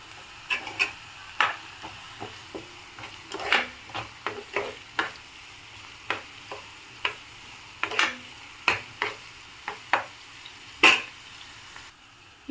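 A spatula scrapes and taps in a pan as green chilies and curry leaves fry in oil for potato kurma, a series of sharp, irregular clicks and scrapes over a faint sizzle, close and with no talk.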